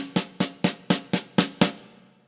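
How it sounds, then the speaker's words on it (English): Seven evenly spaced snare drum hits played one after another in a steady rhythm, each a crisp crack with a short ringing decay, close and alone. "Let's try it together on the snare drum."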